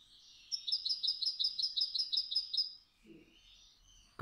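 A goldfinch delivers a fast, hammering string of clear notes ending in a chiming, bell-like flourish, followed by faint soft rustling.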